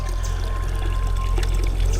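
A pump drives a steady stream of water through a garden pond, giving an unbroken, fairly close pouring and splashing rush that holds the same level throughout.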